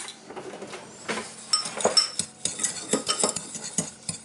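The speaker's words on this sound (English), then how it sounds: "and we're just gonna mix this up." A spoon stirs a cinnamon and brown sugar mixture for a pecan apple cobbler, giving repeated scraping and clinking strokes against a bowl, close and fairly crisp, with no talking.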